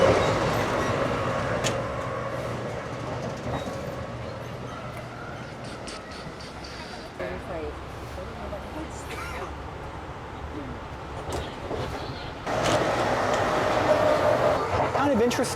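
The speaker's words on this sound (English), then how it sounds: "This ride's a little bit more bumpy compared to the high-speed train." Amtrak coach car riding on the tracks with a continuous rumbling, rattling roll, a surge louder near the end, with faint voices underneath.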